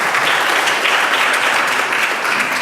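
Legislators in the Virginia House of Delegates chamber applaud the budget conferees with a dense, steady round of clapping that holds at an even level throughout.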